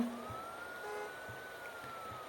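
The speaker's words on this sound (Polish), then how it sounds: "jedzie nawet policja?" A police car siren wails in the Roblox game LifeTogether, a thin, steady rising tone heard at a distance over low background noise.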